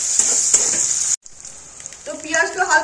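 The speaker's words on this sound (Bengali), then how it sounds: "দুটো পেঁয়াজকে একটু হালকা লাল করে ভেজে নেব" Two small onions frying in a pan to a light red, a bright hissing sizzle that cuts out briefly and returns, while someone speaks over the cooking.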